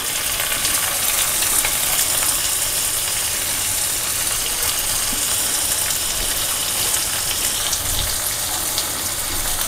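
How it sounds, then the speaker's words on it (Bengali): Onions drop into hot oil in a pan while cooking semolina vermicelli, giving a steady, loud, close sizzle and crackle that runs unbroken with no talking. "প্রথমে দিয়ে দিচ্ছি পেঁয়াজগুলো,"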